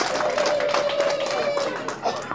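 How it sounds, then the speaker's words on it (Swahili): A crowd gathered to honour police commanders in Kondoa claps in a dense, continuous burst of hand claps, with a steady tonal hum running underneath. "wapigeni makofi mengi sana makamanda wetu"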